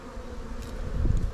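Honeybees in an open hive feeding on sugar give off a steady, close buzzing hum that swells slightly toward the end, with no voices.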